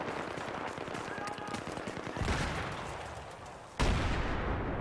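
Gunfire in Battlefield 3 on PS3, a dense run of rapid shots with heavier blasts breaking in near the middle and end, loud and close in the game mix.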